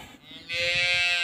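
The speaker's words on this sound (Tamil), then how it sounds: "காட்டுக்குள் மேய்க்கிற மாட்டுங்க" A single pregnant cow that grazes in the forest moos, a short low call that swells into a sustained, loud bellow.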